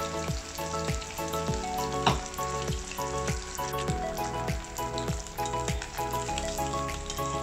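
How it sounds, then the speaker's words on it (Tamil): Anchovies (nethili) sizzle steadily in hot oil, a loud continuous frying crackle with bursts of stirring that give it a rough, repeating rhythm, and no voices anywhere. "எண்ணெயில் போட்டு நல்லா ஃப்ரை பண்ணி எடுத்துக்கோங்க"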